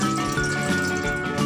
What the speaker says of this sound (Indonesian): Kita tuangkan airnya.